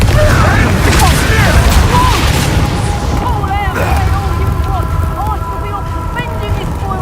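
Fiery blasting-spell explosion in a video game, a heavy booming burst with crackling debris and whooshes, fairly loud, followed by lingering rumble and chiming magical tones as a voice talks over it.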